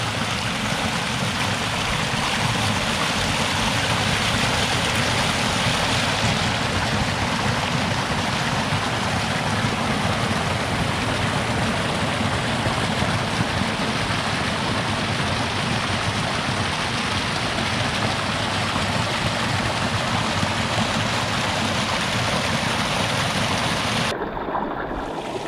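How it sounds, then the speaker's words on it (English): Waterfalls spilling beside a river, a steady broadband rush of falling water that stays loud and unbroken throughout, with no voices over it. "Look up there. Oh, you see those tempting waterfalls?"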